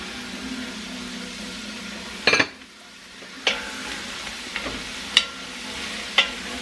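Mushrooms, sweet potatoes, carrots and celery stirred in a soup pot over a low sizzling hiss, with a clattering scrape of the spoon and a few sharp knocks against the pot.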